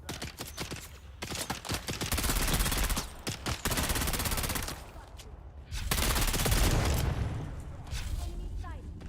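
Rapid bursts of automatic gunfire in the video game Dune: Awakening, loud and close, coming in dense volleys separated by short pauses, with a voice speaking faintly in between.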